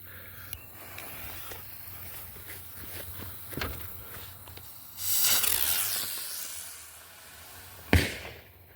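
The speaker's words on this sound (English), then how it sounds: "Exploding Mosquito" Exploding Mosquito firework by Fireheart Fireworks goes off outdoors with a hissing, crackling burst followed by a sharp bang, after scattered light pops and thuds.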